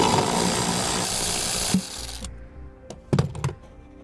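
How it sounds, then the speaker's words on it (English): A power tool whirs steadily to remove a 10 millimeter nut from a long stud holding a vehicle's fascia, then cuts off and is followed by a few sharp metallic clicks and knocks close by. "We'll remove this nut."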